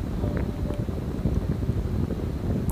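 Electric fan fitted with a bearing motor running on its lowest speed, a steady soft whooshing airflow with a low hum, constant and close, with no talking.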